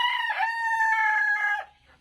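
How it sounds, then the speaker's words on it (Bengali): A King Brahma chicken rooster on a farm crows one long, loud, close call that fades out near the end, with no talk around it. "দেখতে পাচ্ছেন এটা আমাদের ফার্মের কিং ব্রাহ্মা মুরগি"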